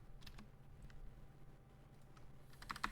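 Faint keystrokes on a computer keyboard tap in an irregular rhythm, with a quick burst of clicks near the end, against a quiet room hum.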